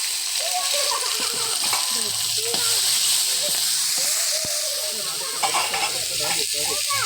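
Onion, ginger, cumin and chili paste fry in hot oil while being stirred, a continuous close sizzle broken by scraping and spatula movements, loud and steady with no talking.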